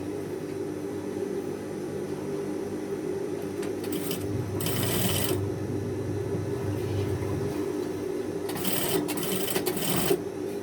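Sewing machine stitching the cuff of a man's shirt: a steady mechanical whir runs throughout, broken by a few short bursts of faster, louder stitching.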